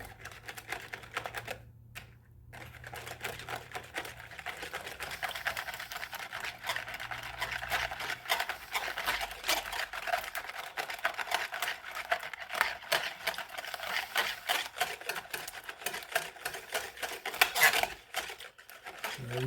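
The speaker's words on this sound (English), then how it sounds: "I'm going to whisk it." Egg mixture seasoned with cinnamon and nutmeg being whisked in a bowl for French toast, a fast, steady clicking and clattering that runs on without pause.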